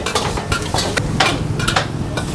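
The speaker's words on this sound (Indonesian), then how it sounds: "sekarang kita masukin ayamnya. Langsung kita aduk-aduk." Chicken pieces stirred in a hot pan for sweet-and-sour chicken at a busy food stall, with a continuous sizzle and repeated sharp scraping, clattering strokes of a utensil against the pan.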